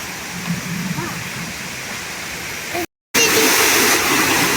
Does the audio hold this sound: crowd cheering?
no